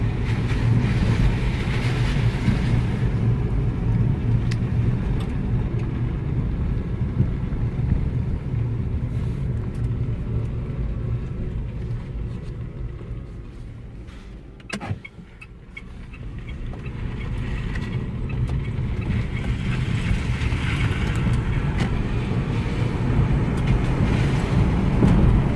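A 2012 Mitsubishi i-MiEV electric car drives along with a steady low road and motor rumble heard from inside, easing briefly into a quieter dip before building back up, with no talking.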